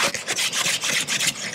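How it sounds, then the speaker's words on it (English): Bristle brush rapidly scoring old silicone sealant along a metal roof seam, a dense rasping scrub in quick back-and-forth strokes, close and steady with no talking. "See, I'm scoring it. I'm doing it with a brush, by the way,"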